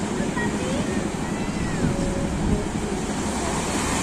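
Surf on the seashore at Malang, East Java, makes a continuous broad roar of breaking waves, with wind buffeting the microphone at a fairly constant level.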